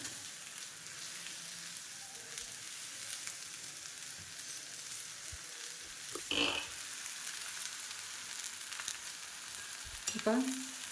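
Methi thalipeeth cooks on a hot griddle tava with a soft, even frying hiss that runs throughout, plus a couple of brief clinks near the end, quiet and without speech.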